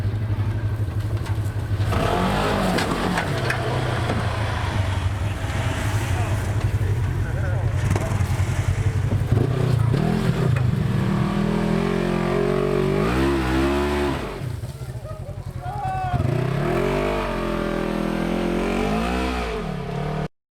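Engine revving hard as an off-road vehicle churns through mud, a steady loud roar throughout with rising surges, while people shout and talk over it.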